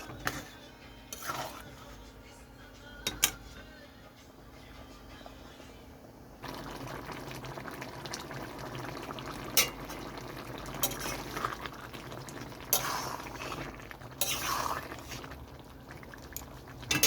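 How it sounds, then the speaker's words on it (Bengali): Hot water poured into a pan of shrimp and young jackfruit curry with cashew paste: a quiet bubbling at first, then a louder steady hiss and bubbling as the water goes in, with occasional utensil taps. "তো এখানে দিয়ে দিচ্ছি গরম জল"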